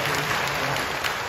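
A church congregation breaks into warm applause of welcome, a dense wash of many hands clapping continuously and evenly throughout.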